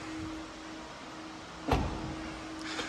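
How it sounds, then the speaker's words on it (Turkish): The electric tailgate of a 2022 BMW M8 Competition closes. A low motor hum runs under the whole stretch and ends in one firm thud as the lid shuts, heard close up and with no talking. "Şöyle elektrikli bagajımızı kapatalım."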